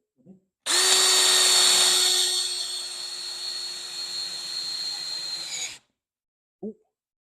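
Ryobi power tool driving into a 2x4, one loud, close whine that starts abruptly, holds for about five seconds while slowly easing in strength, then cuts off, with brief voices just before and after.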